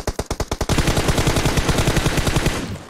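Rapid automatic gunfire in PUBG Mobile, fast even bursts, a few sharp shots followed by a sustained rattling stream, loud and close with a synthetic game-like quality.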